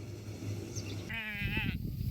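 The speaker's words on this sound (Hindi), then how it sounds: "देखो भैया लोगों की भेड़े तो इनमें ना कुछ कुछ भेड़े हमारी भेड़ों की प्रजाति की भी है" A single sheep in a mountain flock gives one wavering bleat, close and clear, over low background murmur.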